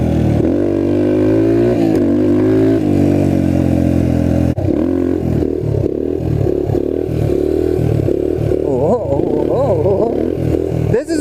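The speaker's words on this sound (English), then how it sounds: "This is the bike that I built to pretty much compensate my want for a CRF rally." Custom-built trail motorcycle engine, loud and close, holding a steady drone and then revving in repeated rising and falling bursts with some clatter.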